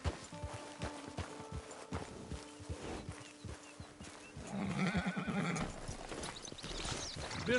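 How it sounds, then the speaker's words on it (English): Horse hooves clip-clop at a walk in Red Dead Redemption 2, followed by a loud close whinny and snorting near the end. "Get your horse."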